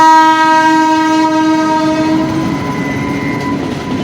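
The Nandankanan Express's horn blares loud and sustained over the low rumble of the train arriving, then fades slightly toward the end.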